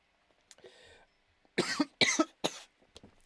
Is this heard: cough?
yes